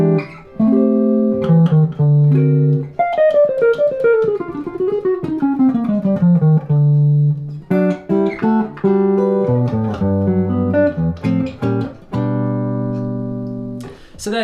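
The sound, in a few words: jazz guitar chord melody with passing chords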